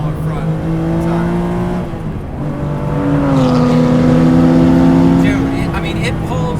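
Guntherwerks Porsche 400R engine pulls hard through high revs, its rising tonal howl climbing between gear changes, close and loud, with people talking over it.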